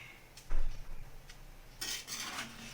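Rice in a clay pot of chicken biryani is stirred gently, giving a few soft scrapes and light clinks of a utensil against the pot, quiet and close.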